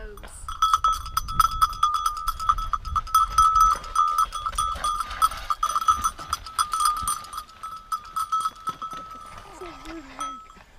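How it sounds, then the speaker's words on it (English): A metal Swiss cowbell clanks rapidly and irregularly, close by in an Irish forest, fading out near the end, while a voice speaks briefly toward the close. "my friend's got a cowbell from Switzerland"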